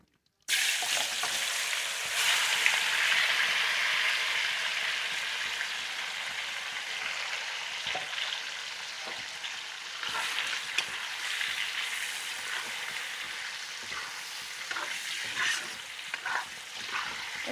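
Chicken meat sizzles steadily in hot oil, a loud continuous frying hiss with occasional crackles and stirring sounds, close by and without talk.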